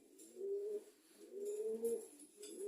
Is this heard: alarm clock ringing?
no